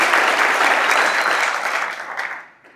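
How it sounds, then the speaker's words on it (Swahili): An audience claps in a sustained burst of applause that holds steady, then tapers off and fades over a few seconds. "Tujipigie makofi wote."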